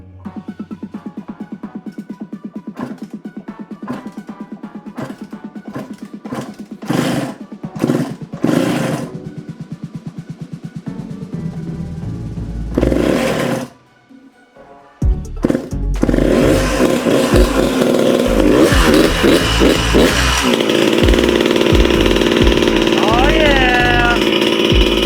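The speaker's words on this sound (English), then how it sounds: "Okay, first start on the bike." A 1997 Suzuki RM125 two-stroke motorcycle engine, freshly reinstalled with the carburetor setting unknown, is kicked over repeatedly with short sputters, then fires and runs loud and close with buzzing revs.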